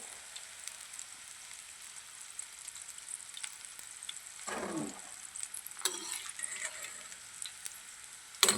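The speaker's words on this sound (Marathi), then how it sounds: "असे छान खरपूस तळून घ्यायचे असे तळून घेतलेले आहेत" Chilli bhaji fritters deep frying in hot oil, a quiet continuous bubbling sizzle that swells into louder crackling bursts partway through as pieces are moved, no voices.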